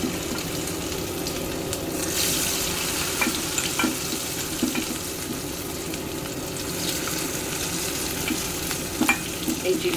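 Chilli chicken fries in a pan with a thick, constant sizzle and occasional clicks of stirring, close and steady throughout, with no one speaking.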